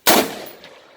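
A single sharp AR-15 rifle shot fired at a shooting range cracks loudly and up close, then decays quickly into a short tail.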